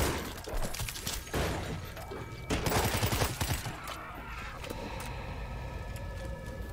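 Gunfire in World War Z against zombies cracks out in irregular bursts of sharp shots amid a busy, noisy game soundscape, loudest in the middle stretch before settling into a steadier background din.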